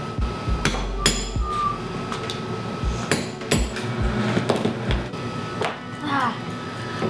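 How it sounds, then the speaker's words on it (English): Metal rivets hammered into leather firefighter suspenders in a leather workshop, a series of sharp, close hammer strikes at irregular intervals with ringing taps between, over faint background noise. "We're gonna rivet this up"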